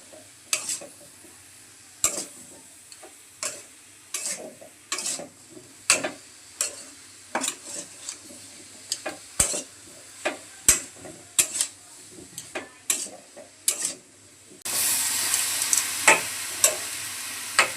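Spices with salt and turmeric are stirred into vegetables in a pan. A soft sizzle runs under repeated sharp spatula scrapes and clicks in an irregular rhythm, then the frying swells into a louder, continuous hiss near the end.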